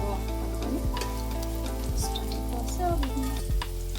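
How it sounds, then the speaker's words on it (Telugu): Vanjaram fish frying in hot oil, a loud, close, continuous sizzle with crackling spits and a few sharp clicks as the pieces are moved around in the pan, no voices. "ఇప్పుడు మెత్తగా ఫ్రై అవుతుంది."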